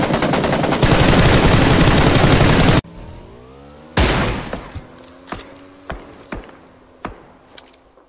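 PUBG Lite video game gunfire: a dense burst of rapid automatic fire, then a pause, then a series of separate sharp shots fading with echo.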